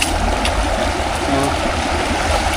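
A river stream flowing near a waterfall, a steady close rushing and gurgling of water that fills the whole moment without pause, with no clear voices over it.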